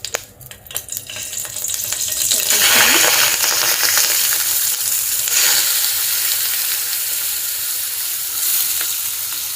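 Prawns dropped into hot oil in a heated pan give a loud, steady sizzle and crackle that swells and holds for several seconds after a few clinks at the start.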